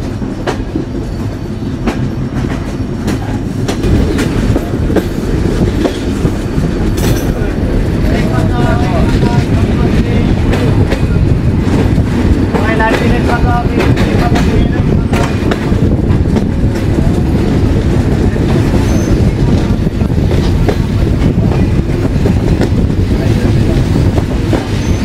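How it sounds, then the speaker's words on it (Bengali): Rupsha Express train pulling out of Mobarakganj railway station in Bangladesh, a steady loud rumble of wheels and carriages with faint clickety-clack and wind buffeting the microphone, continuous throughout. "আমাদের 2 মিনিটের যাত্রা বিরতি শেষে এখন ডিপার্চার নিচ্ছি মোবারকগঞ্জ রেলওয়ে স্টেশন থেকে"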